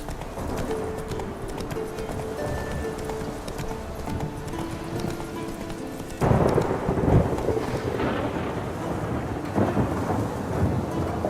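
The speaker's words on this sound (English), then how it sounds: "I just heard thunder and lightning and looked over and I could see these huge grey clouds." A thunderstorm in the video game The Witcher 3: Wild Hunt, steady rain and rolling thunder swelling louder partway through, with horse hooves clip-clopping continuously underneath.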